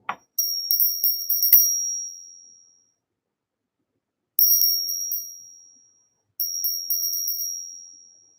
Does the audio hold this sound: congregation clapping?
no